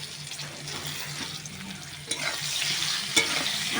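Okra and mango pieces fry in a pan with a steady, moderately loud sizzle that swells slightly, broken by a couple of sharp stirring clinks.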